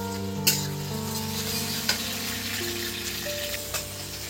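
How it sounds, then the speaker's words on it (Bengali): Chopped tomatoes dropped into browned onions frying in a pan, a steady sizzle running throughout with a few sharp clinks and taps along with a constant hum of tonal background noise. "পেঁয়াজটা বাদামি কালার হয়ে এসছে, এবার আমি কুচিয়ে রাখা টমেটো দিয়ে দিচ্ছি।"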